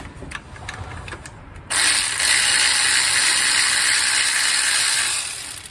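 Rapid ratchet wrench clicking while loosening a bolt on a 2008 Malibu during engine removal prep, a quieter stretch of clicks first, then a sustained loud run of ratcheting close to the microphone.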